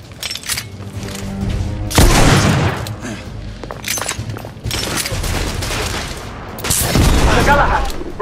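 Shoulder cannon artillery in The Order: 1886 fires in heavy, loud booming blasts amid dense battle noise, several big hits landing close with rumbling gunfire between them.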